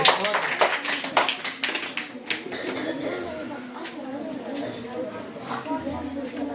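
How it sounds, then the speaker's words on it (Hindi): Applause for a student in a school classroom: a burst of hand claps in the first few seconds, fading into a general murmur of children's voices and talk. "बहुत बढ़िया, जोरदार ताली बच्चे के लिए"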